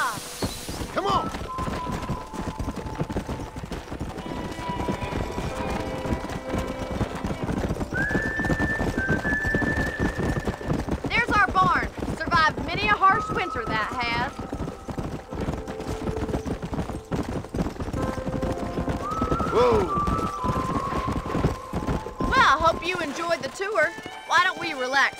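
Hooves clip-clop rapidly in a steady gallop while a horse neighs a few times, with voices talking and occasional bursts of gunfire, in the video game Red Dead Redemption.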